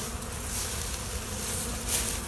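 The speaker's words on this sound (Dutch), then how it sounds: "wat ik heel hard ga missen, is het gezoom" Honey bees buzzing in a steady, dense drone during the year's last flying days, a broad continuous hum that swells slightly near the end with no voices.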